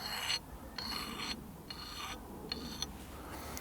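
A file rasps along the edge of an axe being sharpened, in a steady series of about five gritty back-and-forth strokes separated by short pauses, close and clear.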